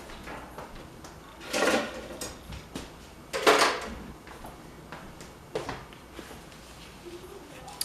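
Dishes and pans are cleared up at a kitchen counter while cornbread is being made. A few separate clattering knocks and scrapes come at intervals, with quiet kitchen ambience and brief talk in between.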